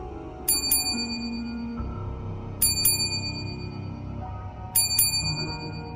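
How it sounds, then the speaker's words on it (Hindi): A small bell rings in quick double dings three times at even intervals, thin and faint over a low ambient hum. "हवा में फिर से वो भूत जैसी घंटी की हल्के आवाज गूंज उठी।"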